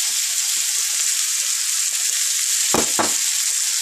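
Onions sizzle in hot oil in a pan for eggplant bharta, a loud steady hiss with a couple of quick scrapes or stirs toward the end, no voices present.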